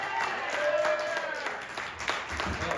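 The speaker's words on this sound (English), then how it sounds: "Clap for Parade." Audience clapping and cheering at a live stand-up comedy show in Dayton, Kentucky, a moderate wash of applause with voices from the crowd mixed in.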